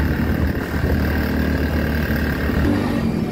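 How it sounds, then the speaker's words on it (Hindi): A car engine labours loudly and steadily while climbing a steep uphill road to a parking area at a Holi festival in Barsana, Braj, a continuous close, low drone with no break. "तो भाई इतना ऊपर था कि हमारी गाड़ी भी आवाज करने लग गई।"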